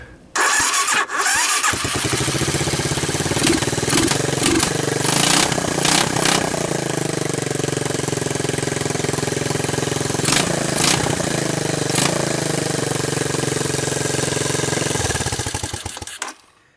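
An ATV with a freshly rebuilt PZ27 carburetor, run from a jump pack and portable CDI, catches after a brief crank and then runs loud and close for about fifteen seconds in a rapid, rattly idle with a few revs, before cutting off.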